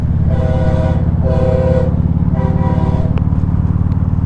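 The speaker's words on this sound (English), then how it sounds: "that was a train." A train rumbles past loudly in Philadelphia while its horn blasts three long tones, the heavy rolling drone continuing underneath throughout.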